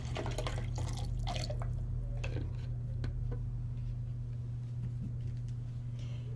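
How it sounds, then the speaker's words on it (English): Mango and passion fruit juice trickles and drips into a cocktail shaker in a series of small liquid splashes over a steady low hum, faint and close, with no talking. "And now I'm going to add the mango and passion fruit juice to this particular concoction in the shaker."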